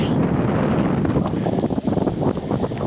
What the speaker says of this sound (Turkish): Rüzgara karşı pedal çeviriyoruz.